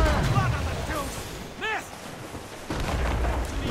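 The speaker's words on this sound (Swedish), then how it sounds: "Wow, vad kanonkulor det där var." Ship cannons fire cannonballs in Assassin's Creed Rogue, heavy booming blasts that rumble across the clip, with someone speaking over the battle.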